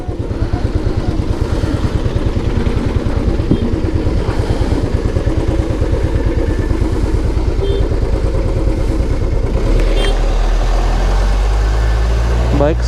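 Motorcycles at a toll gate, a steady close engine putter running throughout with a deeper rumble joining near the end, loud and continuous.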